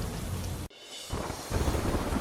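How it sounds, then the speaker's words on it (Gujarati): Heavy monsoon downpour over Gujarat villages, with thunder rumbling under a dense, steady roar of rain; the sound breaks off abruptly, goes quiet for a moment, then the loud rain returns even heavier. "કાળા ડિબાંગ વાદળો સાથે ખાબક્યો ધોધમાર વરસાદ"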